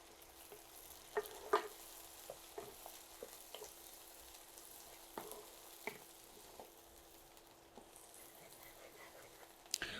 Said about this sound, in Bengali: রসুন পেঁয়াজটা ভেজে নিয়েছি